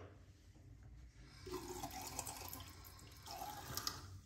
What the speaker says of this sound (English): let's get the glasses off and wet the face